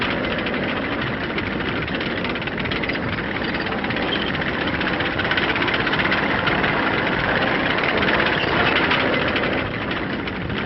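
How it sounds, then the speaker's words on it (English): Military tanks on their way to the front during the Korean War, 1950-51, give off a steady low engine rumble and a heavy grinding drone that stays loud and unbroken throughout. "Version tanks. Rumbling up to spearhead the action to come."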